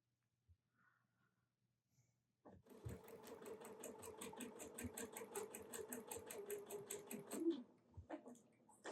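A sewing machine stitches the base of a snowman quilt, starting after a few faint taps and running steadily for about five seconds with a rapid, even mechanical chatter before stopping. It is close and quiet, with no talking.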